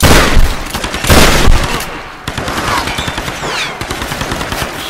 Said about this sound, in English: Shotgun ain't messing around.